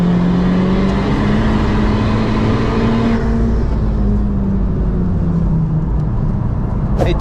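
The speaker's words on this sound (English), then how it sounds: "It does like to rev." A Honda Civic Type-R FK2 turbo engine revving hard on the Nürburgring, a loud droning note climbing steadily, then a gear change and another pull, heard close from inside the car.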